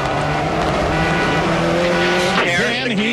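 A rally car from the 2006 X-Games Rally charges through corners close by, its engine whining steadily, then climbing and dropping in pitch toward the end as the tires squeal and skid, all under a commentator's voice.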